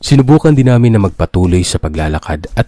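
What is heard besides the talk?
None of the usual background noises is heard.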